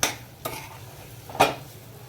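Melted sugar and pineapple shira are stirred in a pan, producing three short, distinct spatula scrapes and clacks spaced apart against a quiet background. No talking.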